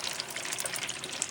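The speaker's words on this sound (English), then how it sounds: "The heavenly fish is all bubbling away." Beer-battered fish sizzles and bubbles in hot frying oil for homemade fish and chips, a steady close hiss dotted with fine crackles and pops, with no voices.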